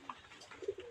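Pigeons on a pigeon farm give a few soft, low coos nearby in a brief, quiet moment.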